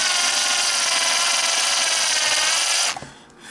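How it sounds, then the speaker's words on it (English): A power drill whines steadily at close range, boring into wood for about three seconds before cutting off abruptly. "I'd go with a smaller drill bit yet. Then work my way up to this larger one."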